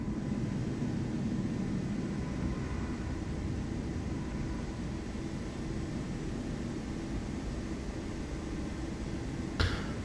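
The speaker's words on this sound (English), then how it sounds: "We're just holding short here for that aircraft to clear the runway" Jet engine noise from an aircraft on the runway in Microsoft Flight Simulator 2024, a steady, broad roar holding evenly throughout with a small click near the end, loud and unbroken, no voices.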